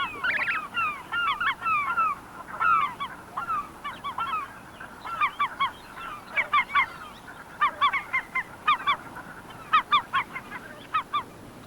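A colony of brant geese honks in a steady stream of short, overlapping calls, moderately close and with no talk over them.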